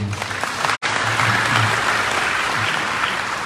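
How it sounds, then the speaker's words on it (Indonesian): A crowd applauds at a dharma talk given in Indonesia, a dense, steady wash of clapping that stays loud and close throughout, broken only by a split-second dropout near the start. "sekali lagi tepuk tangan buat beliau"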